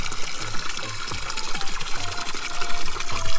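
Water gushes into 10 gallon jugs with a busy, rushing fill sound and a rapid pulsing throb underneath, steady and close.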